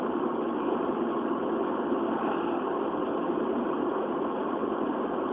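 A car cruises at a steady 80 km/h on cruise control on a long spring highway drive between Novosibirsk and Moscow, producing a constant muffled cabin drone of engine and road noise with no voices.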